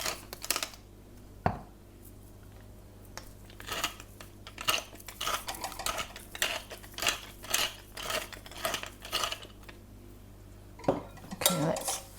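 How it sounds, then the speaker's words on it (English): A utensil mixes a seasoned crust mixture for salmon in a bowl, with irregular clinks and scrapes against the bowl in short bursts, close and fairly quiet, with no talking. "let's mix all that up together"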